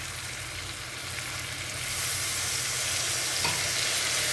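Onion paste and tomato fry in a pan for a golsa fish curry, a steady, close hiss that grows louder and fuller partway through, with a brief stir near the end.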